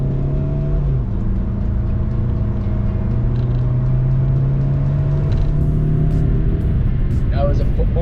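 A Saab 9-5 accelerates hard at nearly full throttle. Its engine drones loud and steady, with the pitch climbing gradually throughout, heard from inside the car with no speech.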